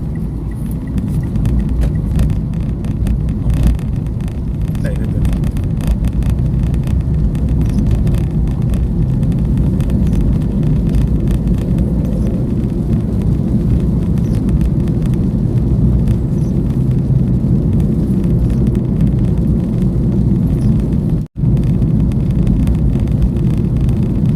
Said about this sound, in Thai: กำลังขับรถไปครับผม